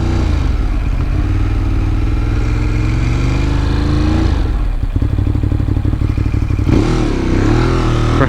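A 2018 Ducati Monster 821 engine runs steadily while riding through city streets, a loud, close mid-pitched drone that dips briefly near the midpoint and then swells again with a surge of revving.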